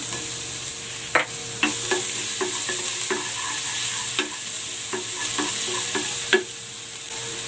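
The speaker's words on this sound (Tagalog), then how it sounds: "Maglalagay ko ng cooking oil. Igigisa ko naman yung toppings ko dito sa bangus para lumabas yung aroma nito." Ginger and garlic sauté in hot cooking oil for a milkfish dish, sizzling steadily up close while a utensil scrapes and taps the pan at an uneven rhythm.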